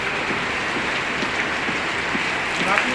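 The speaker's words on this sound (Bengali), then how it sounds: "এত এত বৃষ্টি মানে আর বলার মতো না" Heavy rain falls steadily as a broad, even hiss close by, continuous and unchanging throughout.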